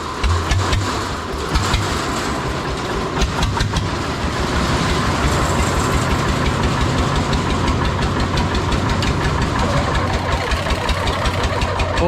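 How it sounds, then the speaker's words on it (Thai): A loud engine runs steadily up close, with continuous rattling and clattering from loose, not yet properly welded metal layered over the rumble. "เสียงเหล็กอะไรก็จะดังหน่อยนะครับ เพราะว่ามันยังไม่ได้เชื่อมดีเนาะ"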